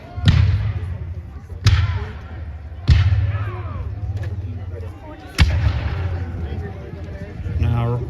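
Cannons fire at a reenactment of the Battle of Guilford Courthouse, four heavy booms at irregular intervals, each rolling away in a long echo across open ground, with faint crowd noise between the shots.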